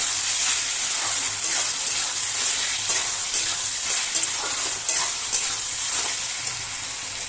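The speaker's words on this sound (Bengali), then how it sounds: "আদা রসুনটা দিয়ে না ভালো করে এটাকে কষাতে হবে।" Ginger-garlic paste fries and is stirred in a pan, giving a loud, continuous sizzling hiss broken by repeated scraping strokes of the spatula.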